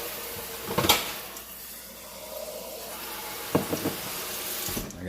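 A kitchen tap runs water into a cooking pot of greens with a steady splashing hiss, broken by a few clunks and knocks of the pot and cupboard.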